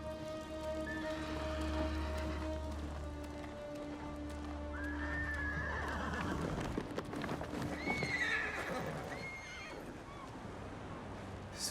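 A horse in the video game Ghost of Tsushima gives a loud whinny over steady rain and the clip-clop of hooves, with a second fainter neigh later, against a low droning background.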